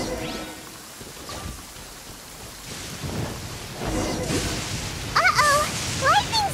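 Thunder rumbles and rain hisses through a lightning storm in Genshin Impact, with low rolling booms building toward the end under scattered game sounds and brief voice cues.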